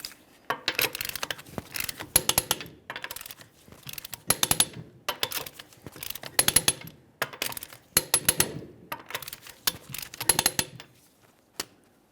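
Torque wrench tightening the rear wheel lug nuts of a 2009-2014 Nissan Maxima 3.5L to 83 foot-pounds in a crisscross pattern: close, sharp metallic clicking comes in about ten separate bursts with short pauses between, and no talking.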